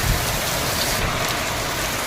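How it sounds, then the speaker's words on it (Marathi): Heavy rain pours down hard during a storm with the power out, a dense, loud, unbroken roar of water striking surfaces close by, with no voices. "खूपच जोरात पाऊस चालू आहे मित्रांनो"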